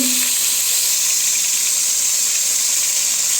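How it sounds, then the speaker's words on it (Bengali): Chicken for biryani frying on high heat in a pan, a steady, loud broadband sizzle and hiss running continuously with no pauses and no talk. "চুলার জাল হাই দিয়ে একটু লাল করে ভেজে নেব"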